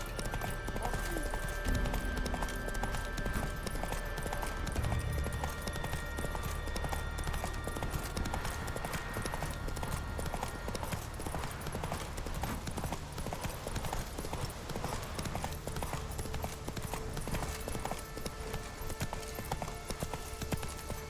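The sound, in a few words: horse galloping hooves in video game Witcher 3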